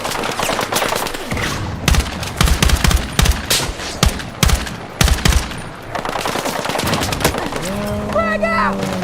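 Rapid gunfire crackles through a Battlefield 6 firefight in short, loud, close bursts separated by brief gaps. A rising tonal whine follows near the end.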